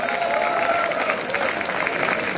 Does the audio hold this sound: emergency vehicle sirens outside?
no